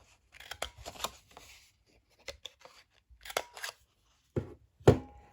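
Scissors snipping rounded corners on paper cardstock for a small 6x6 pocket flipbook album, a handful of short crisp cuts spaced out with pauses, close and fairly quiet.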